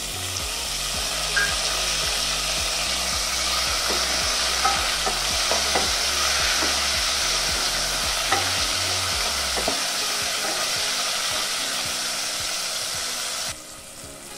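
Tomato pieces frying in a pan for coconut sambar give a continuous close sizzle, broken by rhythmic scraping and stirring strokes, until the sound drops away abruptly near the end.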